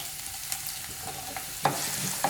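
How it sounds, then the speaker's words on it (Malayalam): Small-chopped onion fries with ginger in a pan for a street-style green peas egg stir fry, a quiet continuous sizzle broken by a few distinct scrapes of the stirring spoon, close up and without speech. "ഇനി നമുക്കിതിലേക്ക് 1 സവാള ഇതുപോലെ ചെറുതായിട്ട് മുറിച്ചത് ഇട്ട് കൊടുക്കാം"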